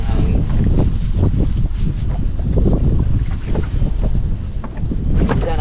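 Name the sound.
strong wind outdoors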